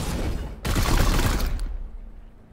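Support fire in Warhammer 40k: Chaos Gate - Daemonhunters: a loud, dense burst of gunfire that cuts in abruptly, rattles for about a second, then drops to a low fading tail.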